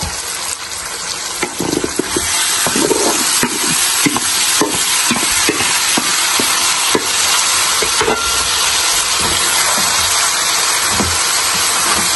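Taro leaves go into a pan of hilsa fish frying in spices, producing a loud, continuous close sizzle with repeated clattering stirs and utensil taps throughout.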